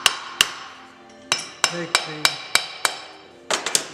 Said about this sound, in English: he's using a hammer, a lead hammer or aluminum hammer